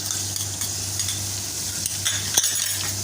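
Ginger garlic paste sizzling in hot oil with browned onions for Lahori chikarh cholay: steady frying hiss with a stirring spoon scraping and clinking against the pot.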